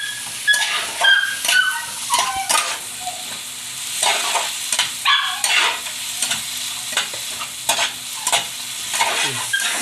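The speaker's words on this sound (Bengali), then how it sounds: "এবার আমি মটরশুঁটিগুলো এখানে দিয়ে দিয়ে এটাকেও আরেকটু কষিয়ে নেব মটরশুঁটিটা" Green peas frying and being stirred in a Kashmiri chilli spice masala for dhaba-style chicken curry, with steady close sizzling broken by repeated scraping stirs of a spoon in the pan.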